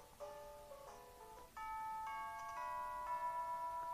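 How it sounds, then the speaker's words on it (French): The school bell in the Pokémon Sun game plays a short electronic chime melody of sustained, bell-like tones, clear and moderately loud with no speech. "Oh, c'est la cloche de l'école."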